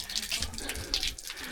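Drinking water runs from a tap beside a mountain trail in Ghandruk village, Nepal, a close, steady splashing gush with fluctuating bubbly texture throughout.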